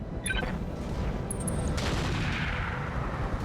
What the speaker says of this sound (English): Ooh, a Thresher landing its one cannon round.